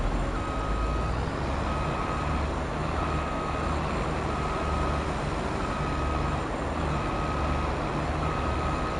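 A truck's reversing alarm in the video game Farming Simulator 22 gives steady, evenly spaced beeps over a continuous engine rumble throughout, moderately loud and unbroken.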